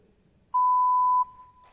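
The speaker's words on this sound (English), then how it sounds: "Please leave your message after the beep." A single clean electronic voicemail beep sounds for under a second, surrounded by near silence.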